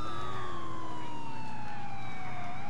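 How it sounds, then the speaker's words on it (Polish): Police siren in Grand Theft Auto IV, wailing in slow, steady, sweeping tones that drift gradually downward, running continuously with game sounds beneath and no talking. "A, bo ja sam mam syrenę włączoną."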